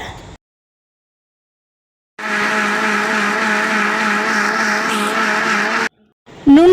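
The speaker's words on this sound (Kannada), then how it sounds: "ನೀರು ಹಾಕ್ಕೊಂಡು ಮಿಕ್ಸಿಲಿ ರುಬ್ಕೋಬೇಕಾಗತ್ತೆ" A mixer grinder grinding henna leaves with water runs with a loud, steady high whine for several seconds, then cuts off, with brief handling noise before and after.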